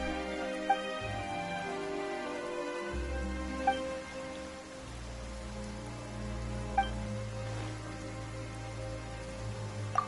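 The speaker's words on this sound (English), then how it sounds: "Why is it raining all of a sudden?" Steady, moderate rain patters continuously in the video game Genshin Impact, with soft background music underneath and no talking.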